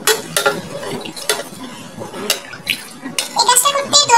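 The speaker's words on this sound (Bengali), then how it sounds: "এবার ভালোভাবে সব মিশিয়ে নিচ্ছি।" Homemade yogurt mixture being stirred in a bowl, with repeated clinks and scrapes of a spoon against the container in irregular bursts, a voice speaking faintly at times.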